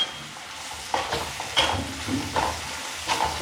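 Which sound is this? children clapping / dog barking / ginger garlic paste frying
ginger garlic paste frying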